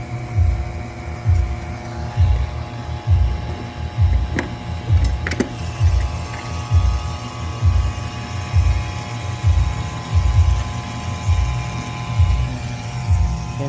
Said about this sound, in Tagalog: Tapos po i-on mo lang tong vacuum.